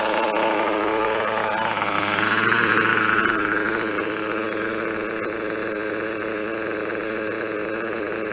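An Italian engine idles steadily at close range after being turned over, a continuous mid-level rumble with a brief swell near the start before settling into an even drone.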